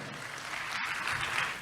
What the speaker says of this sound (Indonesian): Tepuk tangan dulu yang percaya.